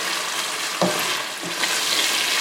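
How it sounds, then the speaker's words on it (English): A steady hiss of masala spices with dried fenugreek leaves sizzling in hot oil in a pan for dal makhani, with a couple of soft scraping stirs, close and continuous. "Frying for a few more seconds."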